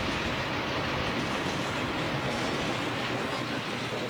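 A train rolls past on the Tehachapi railroad line, a steady roaring rumble of wheels on track with a faint clickety-clack, heard from some distance throughout.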